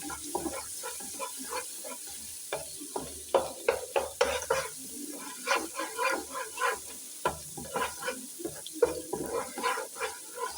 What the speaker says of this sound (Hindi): इसको 2 मिनट अच्छे से हम भून लेंगे।